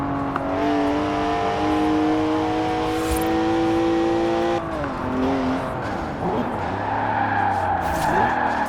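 Forza Horizon 4 car with a 3-litre twin-turbo straight six making 335 horsepower, engine droning steadily loud and up close, then shifting and sliding sideways with tire noise, under continuous game ambience.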